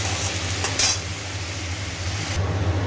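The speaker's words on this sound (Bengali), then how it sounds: "টমেটো দিয়ে দিয়েছি পেঁয়াজগুলো ভালো করে ভেজে এবার এটাকেও ভালো করে কষানো হবে" Onions and tomatoes sautéing with ginger-garlic paste in a pan, giving a steady close sizzle with brief scraping stirs near the start and toward the end.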